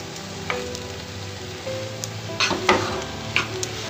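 Stuffing masala for stuffed capsicum roasts in a pan, giving a steady close sizzle and fry with occasional ticks and light clinks of stirring, alone without voices.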